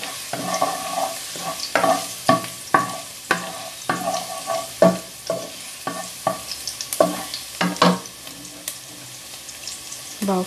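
Garlic stir-frying in a little oil in a pan, a soft sizzle broken by a regular series of scraping, clattering spatula strokes about every half second, close by and without speech.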